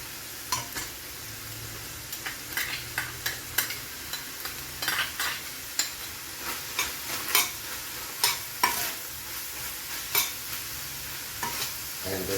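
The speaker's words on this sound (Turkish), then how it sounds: "Şimdi soğanımızı atıyorum içine." Chopped onions sizzle in a pan, a constant frying hiss broken by repeated scraping strokes of a spoon stirring them, about a dozen sharp scrapes spaced unevenly across the clip.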